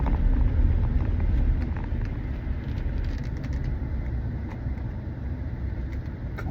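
A car drives by on a highway, a steady loud rumble of engine and road noise that eases slightly after the first seconds and continues evenly, heard from inside a nearby vehicle with no talking.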